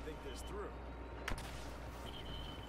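A single sharp sniper shot cracks out midway through a Star Wars Battlefront II firefight, a brief loud report over a low, steady rumble of game ambience.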